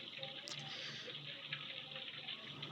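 Water running and splashing at close range during a bath, a steady tap-like gush with faint drips, short and continuous with no talking.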